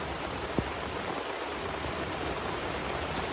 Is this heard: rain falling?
yes